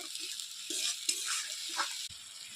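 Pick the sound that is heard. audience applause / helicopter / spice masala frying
spice masala frying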